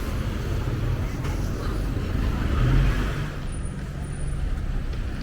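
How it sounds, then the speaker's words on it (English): Busy street traffic circles a roundabout in Phuket Old Town, a steady loud wash of car, bus and truck engines with a brief hiss like an air brake, continuous throughout. "and lots of traffic"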